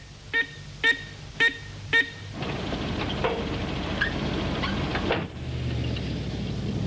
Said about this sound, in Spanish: hace sonar el botón de alarma en el caso de que haya indicios de un aterrizaje